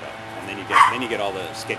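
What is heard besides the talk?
dog barking in the background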